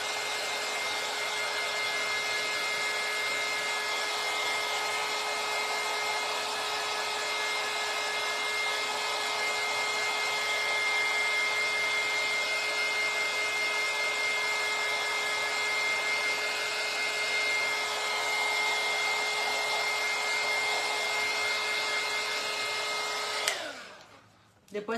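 A cheap electric air blower runs with a steady, loud whirring whine and sharp tonal hum for most of the time, then abruptly cuts off and spins down near the end.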